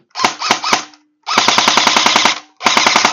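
A Golden Eagle M16A4 electric airsoft BB gun, model F6620, fires in loud close bursts: three single shots, then a long rapid automatic burst, then another short burst, each marked by a mechanical whirring rattle with no talking.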